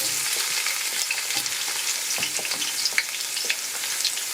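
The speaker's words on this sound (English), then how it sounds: "now I'm gonna add my onions" Onions hitting hot rendered fat in a pan for fried rice, giving a steady close sizzle with scattered crackles and the clicks of stirring throughout.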